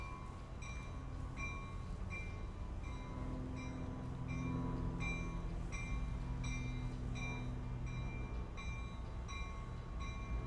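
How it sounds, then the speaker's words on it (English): An ACE passenger train pulls out of a station with a steady low rumble, and regular bell-like dings ring over it throughout. No voices. "let's watch this Ace train here. While the train's departing"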